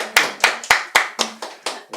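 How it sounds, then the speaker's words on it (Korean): A church congregation gives a newcomer a short round of clapping during a Sunday service: seven or eight distinct, evenly spaced claps, close and crisp, with no talking. "우리 박수 한번 쳐드리겠습니다"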